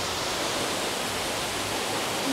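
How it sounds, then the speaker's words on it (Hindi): Steady, loud rushing roar of a waterfall in Pithoragarh, Uttarakhand, heard up close as a continuous broadband wash of falling water with no other sounds over it. "आपको अगर दिख रहा हो ये झरना,"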